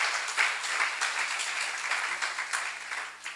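Attendees at a church seminar on Amos clap briefly, an even, moderately loud patter of applause with slight surges, heard alone without speech.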